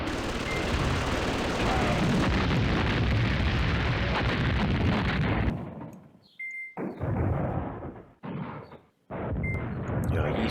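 Mortar and artillery explosions rumble from a wartime strategy game, Command Ops 2, set at Joe's Bridge: a loud, continuous barrage roars for several seconds, then breaks into separate heavy bursts with brief gaps between them.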